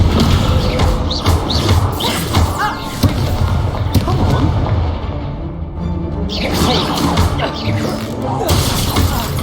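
Incendio fire spell cast in the Hogwarts Legacy video game, heard amid loud, dense combat sound with crashing, shattering impacts and whooshing bursts that run continuously throughout.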